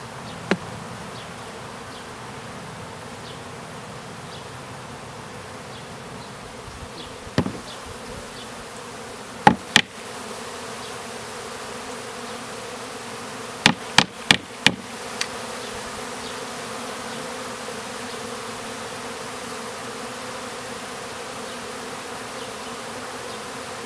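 Bees buzz continuously at a beekeeping site where wax is being collected, a low steady drone in a quiet setting, with several sharp knocks and taps scattered through the middle.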